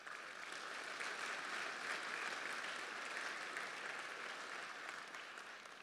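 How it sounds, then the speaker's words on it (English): A large audience at a business hall of fame gala in Manitoba gives sustained applause. The dense, even clapping fills the hall at a steady level, with no speech over it. "Let's give them a round of applause."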